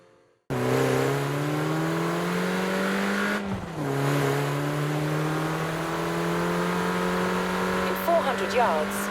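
A car driving in a racing video game played on a Logitech G27 racing wheel, a steady engine drone that rises in pitch, dips sharply at a gear shift, then climbs and holds, with faint voice-like sounds near the end.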